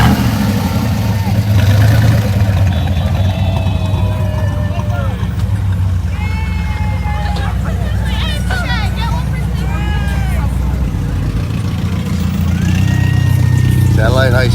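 Car engines rumble and rev through a high school senior car parade, a steady low drone under crowd chatter, with horn-like tones and shouting voices cutting in near the mic.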